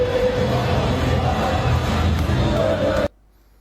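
Moroccan and Algerian football supporters chant together in a stadium, a dense, loud crowd roar with rhythmic shouting that holds steady for about three seconds before cutting off abruptly into near silence.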